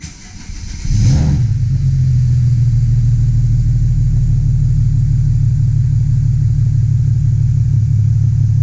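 A single turbo BMW 335i engine cold starts with a brief cranking whirr, catches with a loud flare, then settles into a steady, deep, rumbling idle heard up close.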